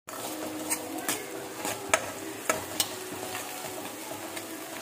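Tomato sizzling in hot tempering oil in a pan on the stove, stirred with a utensil that gives several sharp clinks against the metal over a steady close frying hiss.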